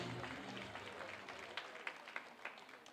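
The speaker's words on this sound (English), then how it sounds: "if we can get another big round of applause for Greg, our African dance instructor" Audience applause at a charity gala fills the room steadily, a dense wash of clapping from a crowd with a few sharper claps standing out near the end.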